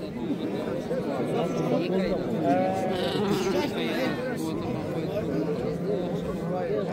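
Sheep and lambs bleat repeatedly at a busy livestock bazaar in Nookat, with goats nearby, under a constant hum of crowd chatter and bargaining voices.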